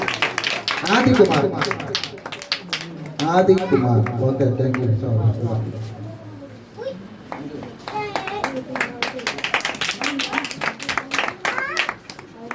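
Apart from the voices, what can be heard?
audience clapping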